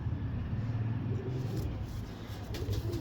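Soft, low pigeon cooing repeats in a gentle rhythm, close by, over a constant low rumble of background noise.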